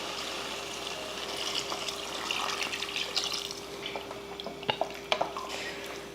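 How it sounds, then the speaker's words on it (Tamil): Water splashes and trickles into a cooking pot while making country chicken curry, with a steady, soft pouring sound that ends in a few small drips and splashes. "அவ்வளோதான், தண்ணியெல்லாம் ஊற்றியாச்சு."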